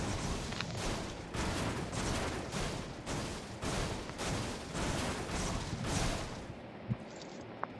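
Sustained automatic gunfire in PUBG, rhythmic bursts of loud dense shots repeating steadily for several seconds before cutting off into a few faint clicks.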